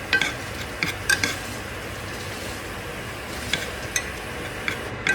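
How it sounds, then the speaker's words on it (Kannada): Onion fries in a pan for a carrot chicken dish, a soft continuous sizzle with occasional clinks and scrapes of a utensil against the pan, with no talking. "ಸೊ ಇಲ್ಲಿ ನಾನು ಒಂಚೂರು ಆನಿಯನ್ ಹಾಕಿದ್ದೀನಿ."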